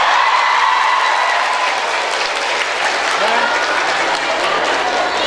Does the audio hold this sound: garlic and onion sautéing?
no